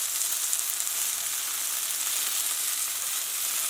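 Sesame chicken pieces fry in a pan with a steady, close, even sizzle that holds at the same level throughout, with no voices.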